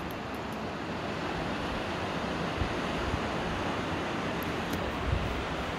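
Ocean waves wash onto a beach beside a pier in a steady, loud, broad roar of surf with some wind noise, continuous and without voices.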